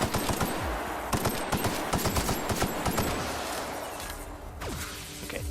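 Rapid automatic gunfire from the video game The Outer Worlds, dense bursts of loud, overlapping shots and impacts filling the whole stretch with no voice over them.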